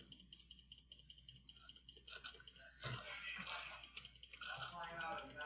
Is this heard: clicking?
yes